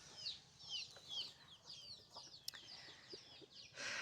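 Village chickens cluck in short, faint repeated calls against quiet rural background noise, outdoors near a tree where pigeons perch.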